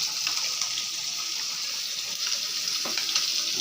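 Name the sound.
ghee added to sizzling fig curry with garam masala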